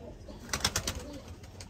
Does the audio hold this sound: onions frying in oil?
no